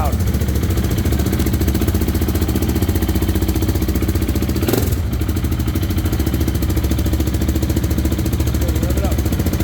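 A just-uncorked GasGas motorcycle engine with a stage 3-style map runs loud and close, holding a rough, steady idle with a brief rev blip near the middle.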